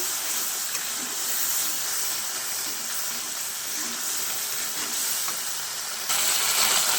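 Masala spices sizzling as they fry in a pan for a paneer curry, a steady broadband hiss that holds evenly throughout and grows slightly louder near the end, with no voices.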